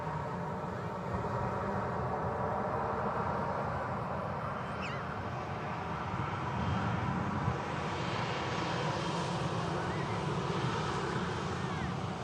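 Ryanair Boeing 737 MAX 8 departing from a runway at Manchester Airport, a steady distant jet engine roar that swells slightly as it rolls, with faint ambient noise around it.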